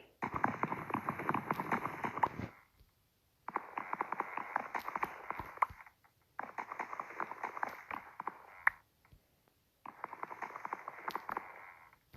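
Horse hooves clop rapidly in a video game, in four bursts of a couple of seconds each, separated by short silent pauses, fairly quiet.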